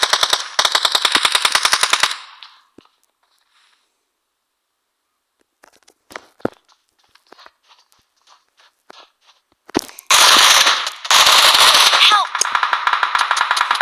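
Rapid automatic gunfire in the mobile battle-royale game PUBG Mobile, loud sustained bursts at the start and again near the end, with scattered single shots and faint footsteps in the quiet stretch between.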